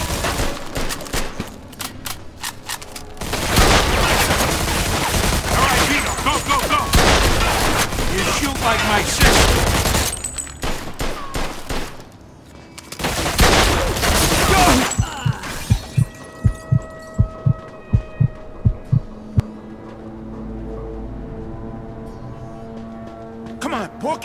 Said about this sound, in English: They're shooting at me, for Christ's sakes!